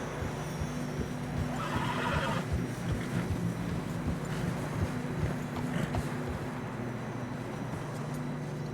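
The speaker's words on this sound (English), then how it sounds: "Horses are struggling." Horses from the Red Dead Redemption 2 game neighing and whinnying while trudging through deep fresh snow, with steady hoof steps and creaking tack under a continuous low rumble of wind and ambience.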